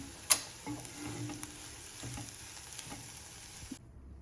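Sprouted green peas fry in a pan with a soft, close sizzle while being stirred, broken by a sharp spoon tap near the start and occasional scrapes, before cutting to silence.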